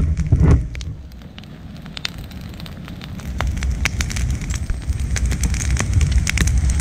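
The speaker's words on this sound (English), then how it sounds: "The rain's starting to pick back up, but I think that fire's hot enough." Steady rain patters outdoors onto a hot burning brush pile on a farm, a continuous crackling hiss with scattered sharp pops and a low rumbling roar, fairly close and without talk.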